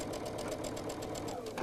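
A sewing machine stitches quilt fabric at a steady fast rhythm, its motor humming under the evenly repeating needle beats, close and alone.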